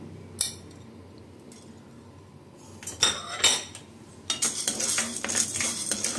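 Dry scraping and clinking of a spoon against a pan as roasted gram and chana dal are dry-roasted and stirred, in irregular bursts growing busier toward the end.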